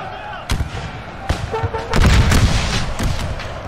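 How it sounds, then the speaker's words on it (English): Musket volleys in a Battle of Shiloh fight from the American Civil War HardCore mod for Napoleon Total War: sharp single cracks, then a dense, loud, rolling crackle of massed gunfire. "they are just going to punch in some solid volleys here"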